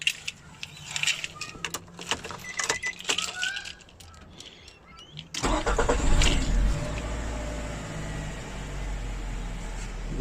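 A Nissan X-Trail, just fitted with a new starter after a no-crank fault, cranks briefly and fires up, settling into a steady close idle after some clicks and key jangling.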